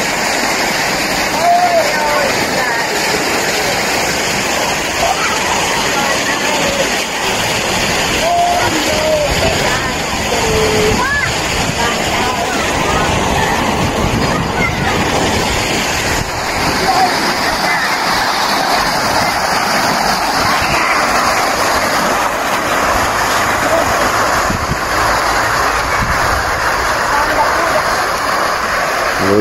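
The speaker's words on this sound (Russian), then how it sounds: "Друзья, даже вот звук журчания воды" Fountains and a small waterfall in a park give off a steady, loud babble of splashing water that runs unbroken from start to finish, with faint activity in the background.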